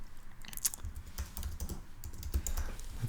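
Keys on a computer keyboard are typed in quick irregular bursts of close, light clicks with brief pauses between.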